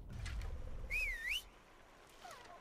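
A player's whistle to summon an animal companion in the video game Far Cry Primal: one clear, moderately loud rising-and-falling whistled call lasting about half a second, over faint ambient game background with a fainter chirp after.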